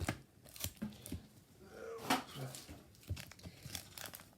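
Crinkly, tearing rustles of adhesive tape come in short bursts with a louder rip midway, close up, as tape is pulled and peeled from a surface.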